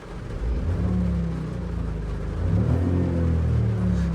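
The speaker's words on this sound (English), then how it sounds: "The unmistakable throng of a 3-cylinder engine is there" A 2016 Vauxhall Viva 1.0 SL's three-cylinder engine is blipped from idle, heard from inside the car as a subdued, steady rumble that swells briefly and settles, with no talking.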